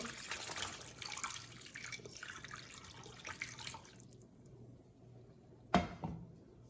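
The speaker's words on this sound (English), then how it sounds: "rinse my meat with hot water" Hot tap water runs into a kitchen sink as meat is rinsed, a steady broadband splashing stream for about four seconds that cuts off, followed by quiet and one brief sharp knock or splash near the end.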